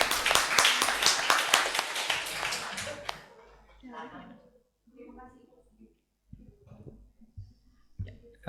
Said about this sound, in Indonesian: Tepuk tangan meriah dong buat Ibu Grace sama Ibu Retno.